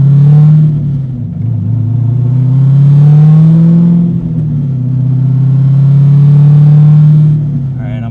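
A widebody C5 Corvette with an LS7 swap accelerates hard. Its deep, loud engine roar rises and falls through the gears across several long pulls and stays close the whole time.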